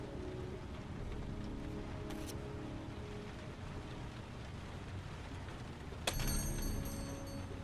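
Steady rain falls in a Heavy Rain game scene, a soft, constant hiss of drops, briefly joined near the end by a sharp bright clatter.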